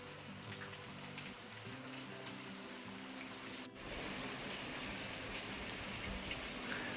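Morning rain falls steadily in the hills of Meghalaya under low cloud, a faint even hiss of drops on surfaces continuing without break, with no voices.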